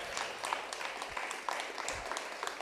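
An audience at a live evening debate in an office gives a round of applause, a quiet, steady patter of many hands clapping, somewhat distant.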